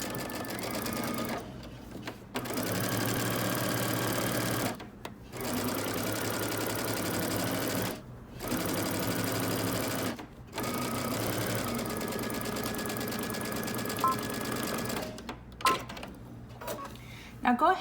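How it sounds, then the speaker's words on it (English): A home sewing machine stitching a jacket seam at a 5/8-inch seam allowance, running in bursts of steady rapid whirring separated by short pauses, close and fairly loud. "we're going to go ahead and stitch using 5/8 of an inch seam allowance"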